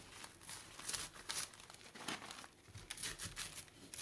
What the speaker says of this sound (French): Donc, il ne faudra que le déchirer